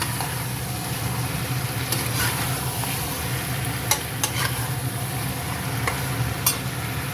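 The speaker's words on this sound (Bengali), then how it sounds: "ক্যাপসিকামও দিয়ে দিয়েছি তারপর এটাকে আমি আরও ভালো করে ভাজছি" Capsicum frying in a pan gives a steady, fairly loud sizzle, broken by a few light clicks and scrapes of a utensil stirring against the metal, with nobody speaking.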